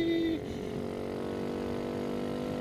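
Kawasaki Z125 mini motorcycle with an aftermarket exhaust idling in a low, steady grumble close by, after a brief higher rev tone that drops away early on.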